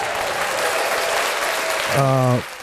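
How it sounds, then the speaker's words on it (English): A short round of applause rings out, a dense burst of clapping under a podcast conversation, with a voice speaking over the tail as it fades. "I'm gonna give you a round of applause."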